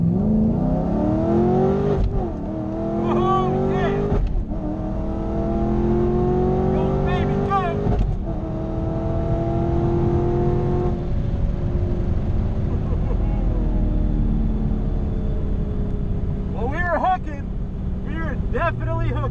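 A drag racing car launching down the strip, heard from inside: the engine roars and climbs in pitch through several quick gear shifts, loud and close, then settles into a steadier drone as it runs out the track.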